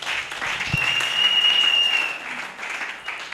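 Church congregation applauding during a French and Lingala worship service, a dense steady wash of clapping that swells in the middle and holds at a moderate, fairly close level.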